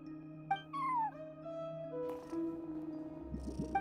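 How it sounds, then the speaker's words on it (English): A cat at a front desk in a video game gives several clear meows, some rising and some falling, against quiet game background tones, then a short rustling burst at the end. "No one except for a cat watching over the front desk."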